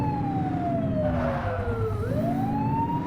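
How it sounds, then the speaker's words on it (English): A police car siren wails in the video game The Precinct, its rising and falling tone loud and steady, dipping low around the middle and then climbing again over a low engine rumble. "Turn that siren off."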